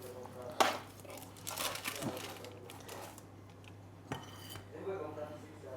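Plates and cutlery clink and clatter in several sharp bursts during a home meal, with quieter scraping between hits and faint voices nearby.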